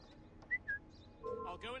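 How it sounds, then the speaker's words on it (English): Two short, high whistle tones sound in quick succession in the video game Assassin's Creed Syndicate, followed by a brief voice and game noise. "I'll go and see what that strange noise was. It's a whistle"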